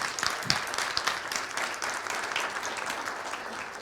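A conference audience applauding the translators, a steady wash of many hands clapping in a hall, moderately loud and sustained with a few sharper individual claps near the start.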